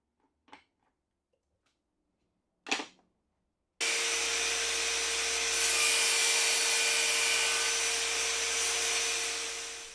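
Table saw with the miter gauge set to 45 degrees cutting a small piece of scrap wood, a loud steady whine that starts abruptly after a few knocks of handling and runs to the end.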